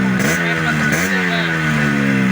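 A motorcycle engine at an outdoor bike market in Alamdanga revs loudly up and down twice, near and steady, and then holds a rough idle.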